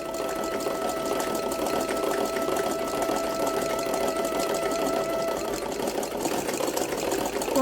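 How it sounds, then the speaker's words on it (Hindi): A sewing machine stitching cloth along the edge for a small Laddu Gopal doll dress, a continuous fast rhythmic whirr running steadily throughout, close and even in level. "तो हमें बिल्कुल किनारे पे सिलाई लगाते जाना है।"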